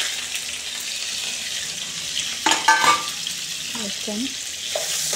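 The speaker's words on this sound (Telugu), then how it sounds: "ఇప్పుడు ఇందులో మనం కట్ చేసి పెట్టుకుని పన్నీర్ వేసుకొని" Cut paneer cubes dropped into heated oil for paneer matar butter masala set up a steady sizzle with frying crackle, broken around the middle by a few louder clattering stirs and spoon knocks.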